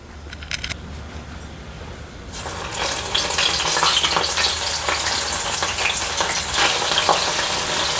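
Disco bhaji fritters dropped into hot oil for Pune street-food style deep frying: quiet at first with a few clicks, then a loud, dense bubbling sizzle that swells up and holds steady close by.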